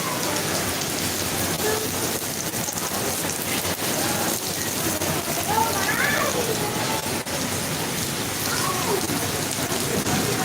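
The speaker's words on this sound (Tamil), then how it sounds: "மழை பார்த்தீங்கன்னா உங்களுக்கே தெரியும் சம மழை" Heavy rain pours down in Singapore as a loud, steady downpour hissing on surfaces, with low thunder rumbling underneath. A voice talks over the storm.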